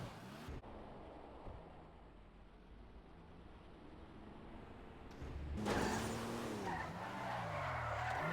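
A Benefactor Vorschlaghammer with a naturally aspirated V8 drives in GTA 5, its engine note quiet at first, then a loud burst of tire noise and rising, shifting engine tone in the final seconds.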